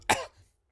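A single short, sharp cough, close and fairly loud, bursts out once and quickly fades into quiet.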